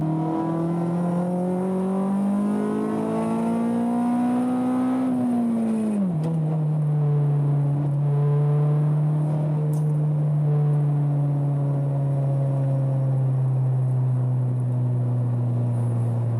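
A K-swapped Honda accelerates hard in second gear, its engine note rising steadily and loud, then dipping briefly at a shift before holding a strong, even drone.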